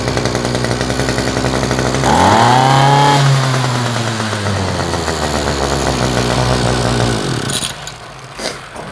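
A 2-stroke string trimmer engine runs loud and close, revs up sharply, then slowly winds down over several seconds until it stops, followed by a few faint clicks.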